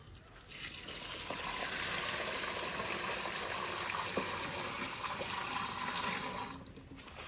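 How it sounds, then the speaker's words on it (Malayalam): Water gushing into a bucket filled about three-quarters full, a steady, close rushing pour that starts after a moment, runs evenly for several seconds, and then stops. "ഇനി നമ്മൾ ഒരു ബക്കറ്റിൽ മുക്കാ ബക്കറ്റ് വെള്ളം ഇങ്ങനത്തെ ഒരു ബക്കറ്റിന് മുക്കാ ബക്കറ്റ് വെള്ളം നമ്മൾ ഒഴിക്കുകയാണ്"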